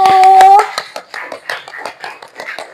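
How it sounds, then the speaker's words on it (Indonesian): A classroom of students gives scattered, uneven claps for a group after a brief voice at the start, with individual handclaps clearly separated rather than blending together. "tepuk tangan untuk kelompok 1"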